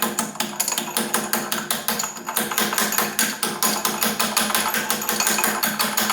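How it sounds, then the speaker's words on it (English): Metal tapping on a Craftsman 10-inch table saw bearing, driving it out with a socket extension: a fast, steady series of sharp hammer-like strikes with a brief pause near the middle, close and loud, no talking. "Let's see if I can just tap him out with an extension here."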